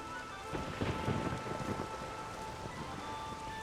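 Steady rain and storm noise with a low rumbling swell in a Witcher 3 video game scene, a dense continuous wash at moderate level with no voices.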